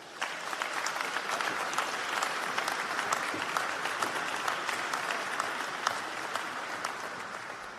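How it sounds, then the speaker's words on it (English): Continuous crowd applause at a Lincoln College graduation ceremony, moderately distant and steady with individual claps standing out, sustained for about eight seconds. "Now I'm sensing the clapping is just going down a notch"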